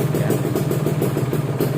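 A Kawasaki Ninja RR SE two-stroke motorcycle engine runs close by with a rough, pulsing, buzzy clatter, held at a steady rev without climbing, while a voice talks over it.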